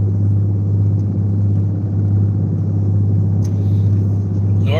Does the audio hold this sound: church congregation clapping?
no